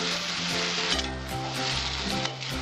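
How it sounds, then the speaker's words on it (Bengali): Potatoes and prawns fry in masala with a loud, continuous sizzle and a few scraping stir strokes, close, with no speech. "এবার আলু চিংড়ি মাছ একই সঙ্গে আমি সব ছেড়ে দিলাম।"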